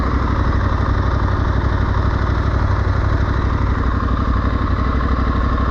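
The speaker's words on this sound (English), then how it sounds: "Sounds like the radiator's on" An Aprilia Tuareg 660 motorcycle idles steadily with its radiator fan running, a close, constant engine drone with fan whoosh and no talk.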